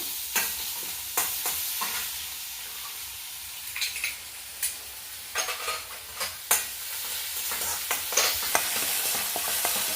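Ginger garlic paste frying in ghee for a bread snack, with continuous close sizzling crackle and repeated sharp scraping stirs throughout.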